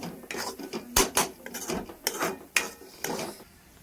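A home cook stirs a pan of frying moth-bean (matki) vegetable, with a metal spoon clanking and scraping against the pan in several sharp, irregular knocks over a quiet background.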